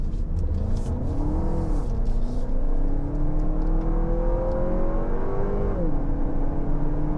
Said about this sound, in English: It sounds like I'm getting ready to like launch, which maybe I should do.